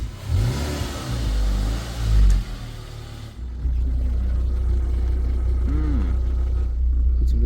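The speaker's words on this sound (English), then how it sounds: "We're gonna take it for a drive." A lifted Mazda NC Miata, a cheap wrecked car being rebuilt, revs and rises in pitch, dips, then settles into a steady, loud engine drone while driving, close up.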